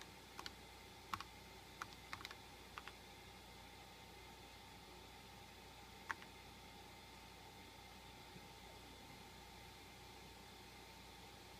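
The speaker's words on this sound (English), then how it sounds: "I don't type very fast." A few sparse keystrokes on an Apple II computer keyboard: faint, slow clicks cluster in the first few seconds with one more a little later, then quiet background hiss and no voices.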